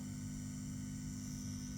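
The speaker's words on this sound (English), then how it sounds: "power transformer is making a little bit of a noise" A steady low electrical hum with a faint buzzing edge from the power transformer of a Peavey Classic 30 valve guitar amp, constant and unchanging, quiet and close, with no other sounds.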